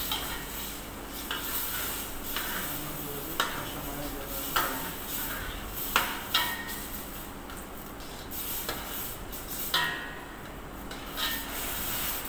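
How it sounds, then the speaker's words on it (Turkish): Meat stock and a little water poured into a hot pan of sizzling entrecote with mushroom sauce, giving a steady fry hiss with scattered stirring scrapes and clinks throughout. "Şimdi bunu az bir şey su katıyoruz hafiften."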